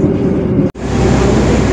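Argo Semeru passenger train rolling into Yogyakarta's Tugu station, a steady loud rumble of cars on rails heard from on board, with a brief drop in the noise midway.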